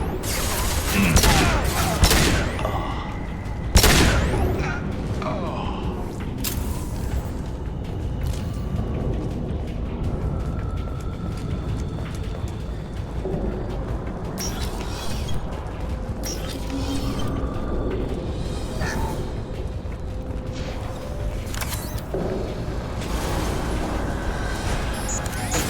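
Gunfire and blasts in the sci-fi shooter Mass Effect 2 crack and boom in loud, irregular bursts, one heavy hit standing out early, over a mechanical, creaking game soundscape with voices speaking now and then.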